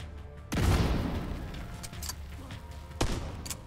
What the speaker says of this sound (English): Throwing a grenade over by you.